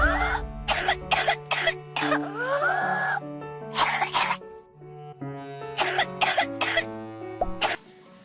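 Harsh, repeated coughing of a child in a demonstration of cough types, bursts of several coughs in quick clusters, close and loud over soft background music.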